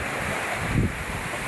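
Surf crashing on a shore under gusty northeast monsoon wind, a dense, roaring wash with a brief heavier surge in the middle, steady and fairly loud throughout.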